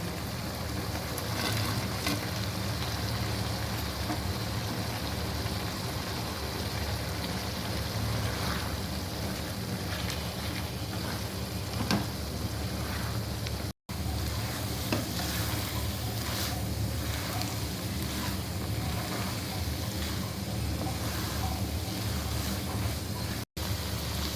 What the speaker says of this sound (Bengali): এখন ভেজে রাখা মাংস দিয়ে দিচ্ছি